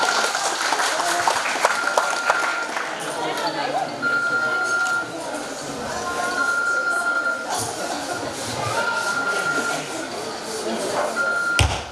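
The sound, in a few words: audience applause for team members at fashion show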